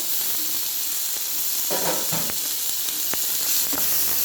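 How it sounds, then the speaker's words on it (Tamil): Chopped onion, tomato and green chili sauté in a hot pan for an egg semiya dish, giving a steady close sizzle with occasional stirring scrapes and pops. "அதையும் நல்லா வதக்கி விட்டுருவோம்."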